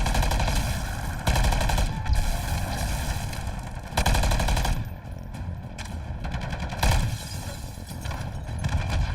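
Sustained loud automatic gunfire rattles almost without pause during a video game boss fight against Gorm the Worm, with dense rapid shots and brief gaps between bursts.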